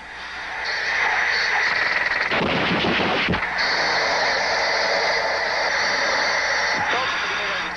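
A Super Étendard jet in a ground attack fires its 30 mm cannons, a loud burst of rapid crackling gunfire lasting about a second that cuts through steady jet roar and radio-style narration.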